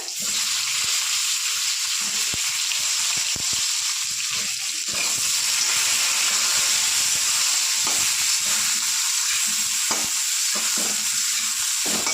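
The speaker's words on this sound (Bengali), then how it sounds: "আগে বেগুনগুলো লাল করে ভেজে নেব" Whole eggplant frying in hot oil for a fish curry with beans and potato, giving a steady, loud, close sizzle with crackling bursts and occasional stirring clatter, no voices.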